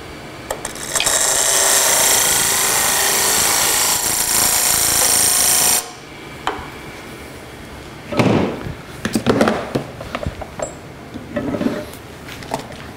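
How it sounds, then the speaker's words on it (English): Wood lathe taking a peeling cut on a spindle while turning a snowman: loud, steady, close cutting roar for about five seconds that stops abruptly, followed by scattered knocks and taps. "I'm just going to make a peeling cut on the tool rest, raise the handle until it starts cutting"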